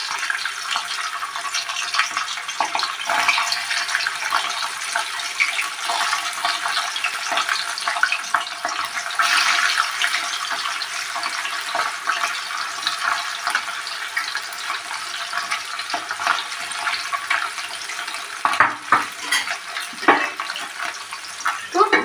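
Tengra fish fry in hot oil in a pan, giving a steady, bright hiss and sizzle with occasional sharper crackles and spits, close and continuous throughout, with some talking alongside.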